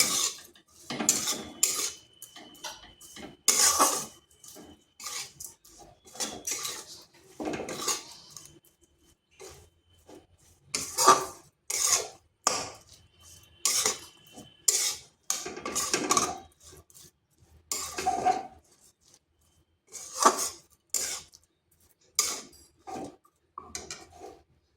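Semolina and egg batter being mixed in a bowl, with a utensil clinking and scraping against the sides in quick, steady bursts over a long stretch, close up and without speech.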